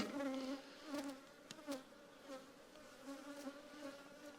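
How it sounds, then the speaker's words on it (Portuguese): Bees buzz around a hive, a steady hum with swells and dips as individual insects pass close, fairly quiet with no voices. "Temos abelhas, isso é legal, né?"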